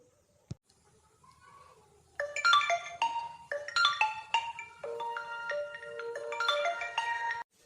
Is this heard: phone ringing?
yes